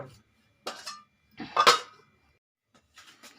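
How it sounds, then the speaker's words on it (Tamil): A metal lid is set on a pot of batter, giving a couple of short clinks and scrapes with quiet pauses between them. "இப்போ நான் இதை மூடி வச்சுறேன்"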